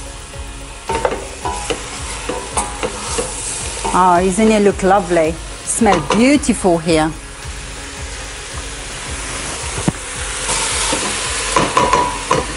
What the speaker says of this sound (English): I'm going to let it fry for a good 2-3 minutes with the garlic and the onions